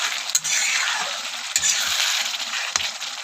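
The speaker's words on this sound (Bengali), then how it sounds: "তারপর মাছটিকে দেওয়ার পরে ফুটতে দেওয়া হলো খানিকক্ষণের জন্য।" Magur catfish curry bubbling and sizzling in a pan, a steady close hiss of boiling liquid with occasional faint clinks and stirring bumps.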